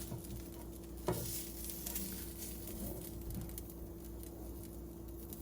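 Philly cheesesteak meat with melting cheese in a pan, giving a quiet, continuous low sizzle with soft crackles and one brief louder scrape near the start, and no talking.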